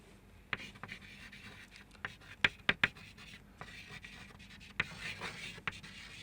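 Handwriting on a board or sheet, a series of quick scratchy pen or marker strokes in short bursts with brief pauses, close and fairly quiet, during a secondary-school biology revision lesson.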